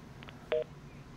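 Telephone keypad dialing tones during a live phone-in stock market broadcast: two faint short beeps followed by a louder, longer dual tone, over a quiet background hum.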